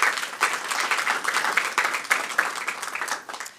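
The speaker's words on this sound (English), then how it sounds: "So let's give them a round of applause." Audience applause at a summer youth employment press conference, honoring the program's funders: a dense, steady wash of many hands clapping close by for a few seconds, tapering slightly at the end.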